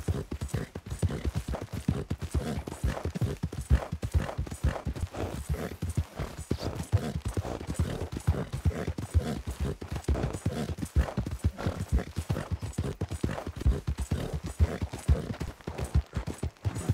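Horse hooves clip-clop steadily in Red Dead Redemption 2, a brisk, even rhythm of close, distinct hoofbeats running continuously for the whole stretch, with an occasional faint whinny.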